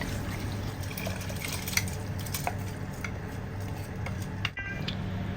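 Soaked rice is poured into a pot for arroz caldo, making a continuous close wet pouring rush with light scraping and clinks against the pot.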